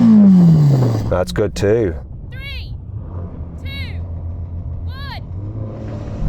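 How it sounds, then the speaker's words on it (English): A Ferrari Roma engine revs with a rising tone at the start, then settles into a low idle rumble while a person speaks over it. "Finally then, let's have a listen to that Roma."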